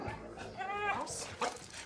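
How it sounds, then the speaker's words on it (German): Dogs of various breeds packed together at an intensive training course for problem dogs, with a whining yelp and short barks heard under a person talking, moderately close. "Jaulen, Hecheln und Gebell sind kaum zu unterbinden."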